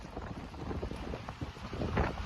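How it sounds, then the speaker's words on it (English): Strong gusting wind buffets the microphone in broad, rumbling surges that swell toward the end, loud and close. "This is earlier, the strong gusting wind."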